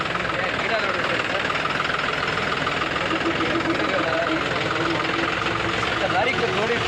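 A tractor engine rumbles steadily and close by as it drives along a rough farm track through plants toward a pigeon pea field, with a rattling, knocking drone and voices talking over it.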